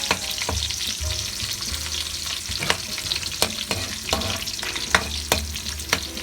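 Onions frying in a pan for milkfish with salted black beans, loud crackling sizzle with rapid, repeated spatula scrapes and clacks in an uneven rhythm, close and busy.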